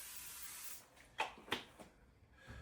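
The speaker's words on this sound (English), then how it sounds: "Get some spray when we bake." A short hiss of non-stick cooking spray at the start, followed by a few quick taps and light clatter, quiet and close.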